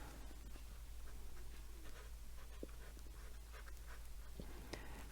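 A cool gray 5 marker, nib end, colors the body of a butterfly in a 3D butterflies coloring book, giving faint, soft scratchy strokes on paper against a quiet background, with no talking.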